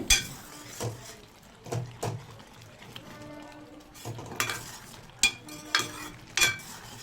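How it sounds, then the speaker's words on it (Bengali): A spoon stirs mung dal with drumstick leaves and ghee in a pan, giving a soft continuous sizzle broken by repeated scraping and clinking strokes against the metal, close up with no voices. "আরও একবার সব কিছু খুব ভালোভাবে মিশিয়ে নেব"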